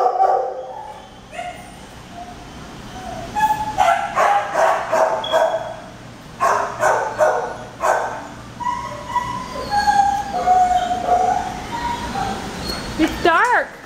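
Dogs at an animal shelter bark, yip and whimper in repeated bursts at close range, with a person talking over the noise throughout.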